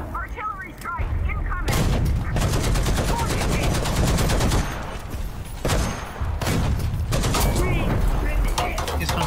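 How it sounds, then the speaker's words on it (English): Artillery strike in a tank video game featuring the M8 LAC: heavy rattling bursts of rapid fire and booming impacts keep going loud and close, with brief breaks between volleys and a voice talking under them. "Artillery strike"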